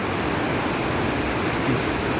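Water rushes steadily at Droneshwar dam on the Droneshwar river in the Gir forest near Girgadhada, a continuous broadband wash that stays even and fairly loud throughout, with no voices.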